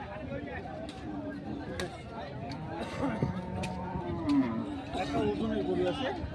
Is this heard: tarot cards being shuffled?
no